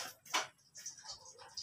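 Small water pearl stones (mutya ng tubig) clink against each other in a few quick, light, bright taps, close to the microphone and with no voices over them.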